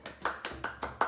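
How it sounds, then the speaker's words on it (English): Young children clapping hands together, about five sharp claps in a quick steady rhythm, close and moderately loud with no talking. "Give yourself a round of applause"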